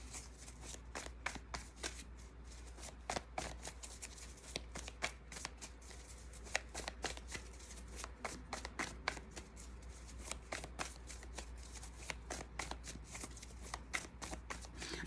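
Light Seers Tarot cards are riffled and shuffled continuously in the hands, a soft, rapid flutter of papery slaps and clicks, close but quiet over a low steady hum.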